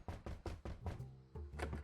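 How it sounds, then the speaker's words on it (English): Knocking on a door in Monkey Island 2, a run of five sharp evenly spaced raps, then two more after a short pause, close and clear. "I'll knock."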